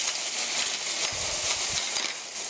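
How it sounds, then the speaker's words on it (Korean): Cabbage, onion, garlic and bell pepper are stirred together in a pan for a meat sauce rice bowl, a soft scraping and tossing over a light sizzle. "이렇게 고루 섞어주시고요"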